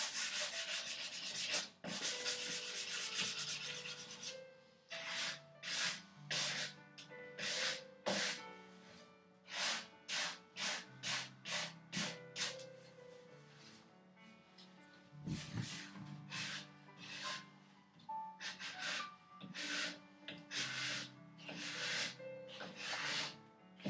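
Wood is sanded by hand with worn 150 grit sandpaper for a workbench tail vise, giving a run of rhythmic, close rasping strokes with brief pauses between them, no voices.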